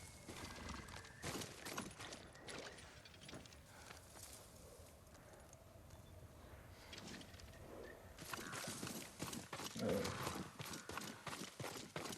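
A horse in the Ghost of Tsushima video game, heard as a steady run of clip-clopping hoof steps with snorts and a whinny near the end, close and clear against a quiet outdoor ambience.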